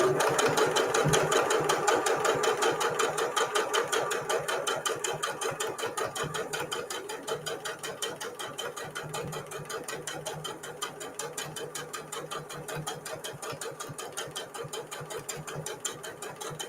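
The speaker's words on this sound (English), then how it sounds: "I'm gently lifting the presser foot a little bit every couple of stitches to follow that gentle curve around the corner." A sewing machine stitches around a gentle curve on a fabric mug cozy, a fast steady rapid-fire clatter of needle strokes with brief pauses as the presser foot is lifted, close and fairly quiet with no talking.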